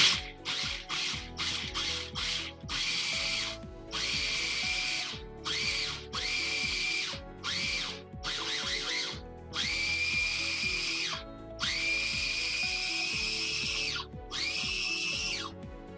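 A food processor pulses dry ingredients on its chop setting, giving a series of sharp whirring bursts that start short and rapid, then stretch into longer runs with brief gaps between them, loud and close with no talking.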